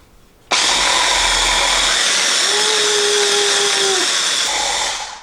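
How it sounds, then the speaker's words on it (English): A blender runs on high, puréeing a gochujang sauce for fish tacos. It starts abruptly, holds a loud, steady whine for several seconds while the pitch shifts slightly, then winds down, with no talking. "And blend her up. I'm going to put it on high."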